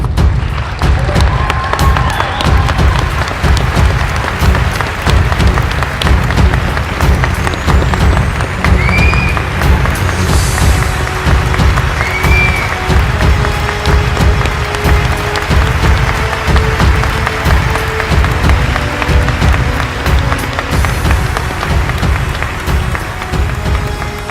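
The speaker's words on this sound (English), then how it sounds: "If you can just join me in applauding them, congratulating them once again." An audience at a New Bedford Police Department promotional ceremony applauds newly promoted officers, a loud, dense, steady clapping that fills the whole stretch without easing.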